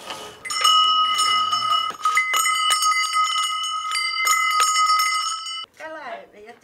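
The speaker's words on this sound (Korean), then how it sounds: "그리스식 도어벨인데 종소리에 그만 안주인이 나오고 만다." Greek-style doorbell hung at a blue front gate in Türkiye, a bright metal bell rung by pulling, chiming repeatedly and loudly up close with ringing overtones, while people talk around it.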